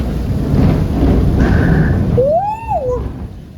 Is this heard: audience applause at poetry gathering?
no